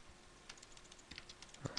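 Quick, light keystrokes on a computer keyboard, tapping in an irregular rhythm, faint and close, with a slightly louder cluster of clicks near the end.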